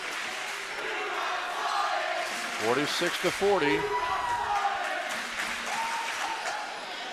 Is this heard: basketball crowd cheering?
yes